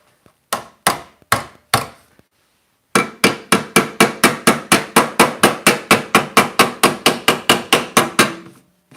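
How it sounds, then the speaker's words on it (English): Loud metallic hammer blows shaping Nissan Skyline body metal during rust repair, a few spaced strikes, a pause, then a fast steady run of repeated hits ringing close by. "let's go in with a hammer and try to contour that"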